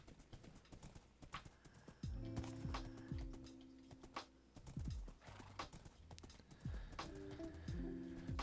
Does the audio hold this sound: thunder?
no